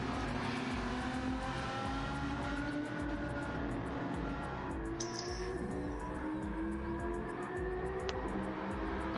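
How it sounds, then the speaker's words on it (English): Race cars, including an Audi and a Nissan, roar off a starting line in a championship series race, a sustained loud engine drone with rising revving tones throughout and no talking. "and they're off. Oh, and that Audi looks like it has a bit of a jump off that starter line"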